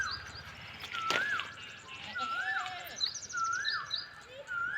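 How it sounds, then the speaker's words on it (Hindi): An Asian koel calls from the trees around a rural home in Jharkhand, repeating a rising, whistled note about once a second, moderately distant, over a soft bed of birdsong and outdoor ambience. "अभी मैं आपको कोयल का भी आवाज़ सुनाती हूँ।"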